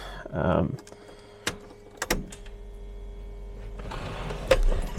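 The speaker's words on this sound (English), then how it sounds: "The other pump that you're hearing is just the brakes." The electric brake pump on a Jaguar XJS V12 hums steadily in the engine bay. A few sharp clicks and knocks come through, and a brief voice is heard near the start.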